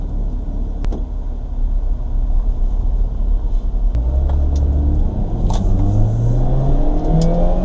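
A 2002 Toyota Celica GTS with an automatic transmission accelerates hard, its engine revving and rising in pitch through the gears with a loud, steady in-cabin drone and road rumble.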